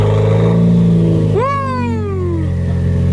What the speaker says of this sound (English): now I'm gonna record it how it sounds straight pipe